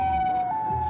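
A loud, steady siren wail of the Siren Head creature, holding one high tone that steps up in pitch about halfway through, heard alone with no talking.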